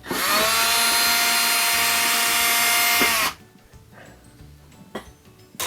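Power driver spinning out Torx 15 screws from an appliance panel: one loud, steady whine lasting about three seconds, then stopping abruptly, followed by faint handling clicks and a couple of small knocks.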